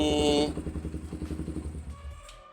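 A second-hand Suzuki Stallion 150cc motorcycle engine idles nearby with a steady, rapid loping thump, loud and close, before it cuts out into quiet.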